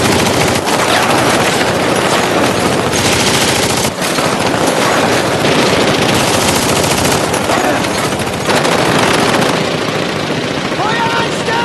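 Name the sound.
machine gun fire in a war film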